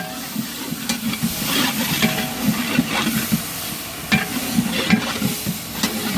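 Gongura leaves sizzle and hiss in hot oil while something stirs through the pan, a busy, close crackle with occasional louder scrapes.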